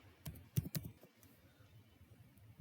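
Computer keys clatter in a short burst of quick clicks, then go quieter as a few soft presses follow, close and faint with no voice, as a save shortcut is typed while editing an HTML page.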